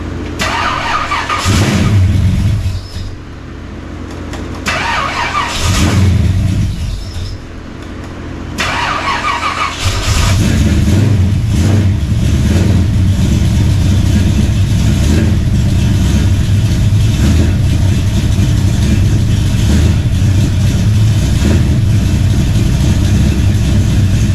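A Ford F100 truck engine cranks in several bursts, then catches and runs at a loud, steady, rumbling idle for the rest of the clip, heard up close.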